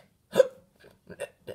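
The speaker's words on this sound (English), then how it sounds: "I think you got the hiccups." A person hiccuping: one loud, sharp vocal hiccup followed by a few softer voiced catches in quick succession, close and dry in a quiet room.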